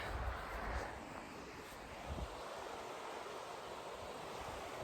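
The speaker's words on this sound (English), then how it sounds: "I have to show you the beautiful creek here." A mountain creek in snowy Northern California near Mount Shasta rushes steadily, a broad continuous hiss of flowing water, faint and even throughout with no voices.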